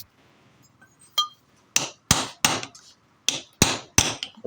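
Repair work on an old Suzuki motorcycle, about 20 years old, as a part is hammered loose: several sharp, close metallic blows land in an irregular run after a quiet start.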